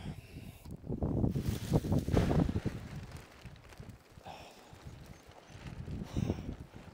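Wind gusts at a farm silage pit buffet the microphone in rough, irregular surges. The gusts are strongest early on, ease in the middle and pick up again near the end.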